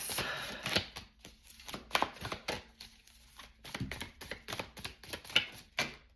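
Tarot cards shuffled by hand during a pick-a-card reading, a close, quiet run of crisp riffling and tapping bursts in an irregular rhythm, with no talking.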